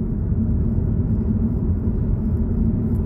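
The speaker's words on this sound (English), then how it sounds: "Let's have a listen for cabin noise." A low, steady rumble fills the interior of a 2019 Skoda Octavia Estate while driving, with soft road and wind noise and no other sounds.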